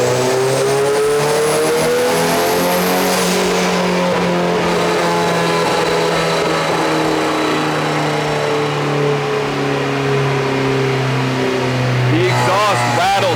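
A K24-swapped Subaru BRZ engine revs loud and close, its pitch climbing and then holding steady, with a rattling exhaust and a voice talking over the engine noise.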